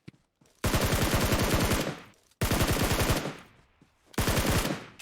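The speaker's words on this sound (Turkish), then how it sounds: "Tamam ben şu önümdeki aveli vuracağım aşağı doğru gidiyor." Automatic gunfire in PUBG Mobile, fired at an enemy: loud, close bursts of rapid shots, a long burst followed by a second one and then a third that begins near the end, separated by short silences.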